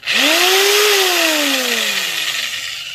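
A faster Harbor Freight power drill polishing an aluminum wheel revs up sharply to a loud, high whine with a rising tone, then gradually drops in pitch as it slows over a few seconds.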